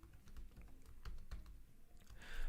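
Quiet keystrokes tap on a computer keyboard as operating hours are entered into an online shopping mall setup form, with soft, irregular clicks over a faint background hum and no speech.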